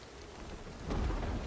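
Steady rain with a low rumble of thunder swelling partway through, from the video game Project Zomboid; the storm sounds fairly close and fills the scene with no talking.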